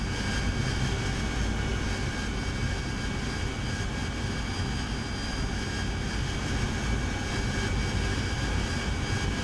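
A continuous, loud jet engine roar from an AV-8B Harrier during a landing in the DCS flight simulator, holding steady without breaks and with no voices.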